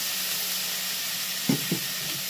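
Spiced ridge gourd sizzles in a pan after a splash of water, making a steady bright hiss with two short low knocks near the end.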